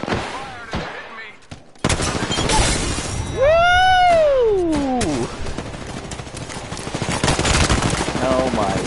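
Rapid automatic gunfire in the Apex Legends video game crackles in bursts alongside in-game explosions and shattering effects, with a rising-and-falling tonal effect heard close and loud in the middle.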